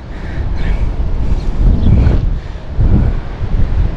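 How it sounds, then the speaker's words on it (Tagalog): Wind gusts across an open outdoor spot where a fishing net is being set, producing loud, rumbling buffeting on the microphone that swells and eases in waves, with no voices. "Papunta doon kasi yung hangin guys."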